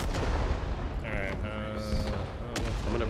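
An artillery fire support strike in Rising Storm 2 thunders across the battlefield, with heavy booms and a crackle of gunfire layered together, loud and continuous under occasional game noise.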